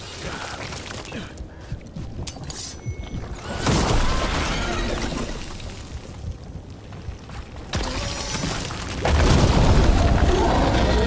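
A ballista fires in the video game Dragon Age: The Veilguard, giving loud heavy booms with mechanical clatter and rumbling blasts. The biggest surges come around the middle and again near the end, over a constant bed of game noise.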